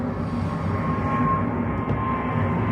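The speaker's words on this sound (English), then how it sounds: "we have planes taking off" An airplane takes off overhead beneath a flight path near a home, a continuous low rumbling drone at moderate distance, steady in level and heard with no one speaking.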